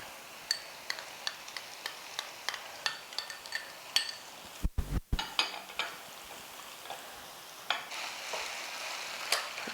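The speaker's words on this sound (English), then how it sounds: "now this is getting cooked nicely. It has to get simmered." Egg basket pie filling simmers in a pan with a soft continuous sizzle and steady small pops and clicks, plus a brief louder clatter of a utensil midway, close and wordless.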